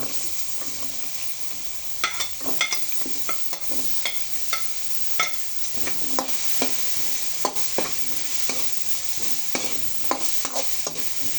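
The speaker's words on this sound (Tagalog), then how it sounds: "ilalagay ko na po ang ating ginayat na sayote" Chopped chayote stir-frying in a pan with tomato gives a constant loud sizzle, punctuated by regular scraping and clacking stirring strokes, with no talking.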